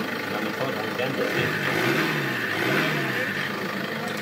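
A car engine running after replacement of a faulty pressure regulator valve, settling into a steady idle with a mid-level hum, then rising briefly in two gentle revs, continuous and close throughout.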